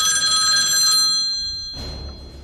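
A mobile phone rings with a steady bell-like electronic tone that fades out after about a second, followed by a brief rustling noise.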